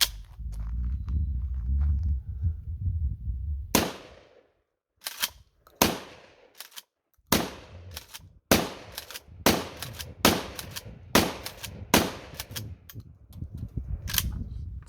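Shotgun fitted with an improvised BB bead sight firing a quick string of loud, sharp blasts, about a dozen shots spaced roughly half a second to a second apart after a short lull, each with a brief ringing tail.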